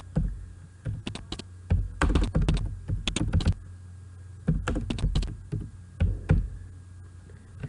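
Rapid clattering keystrokes on a computer keyboard as an address is typed, bursts of close, crisp taps separated by short pauses, with no talk.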